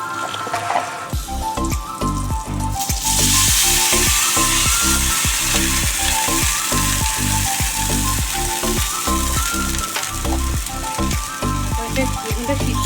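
Water poured into frying eggplant in a pan for begun bahar, setting off a loud bright sizzle that surges and stays strong, with rhythmic stirring knocks throughout.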